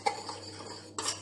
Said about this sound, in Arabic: نحرك مزيان تيذوب داك الشكلاط ولا جيلاتين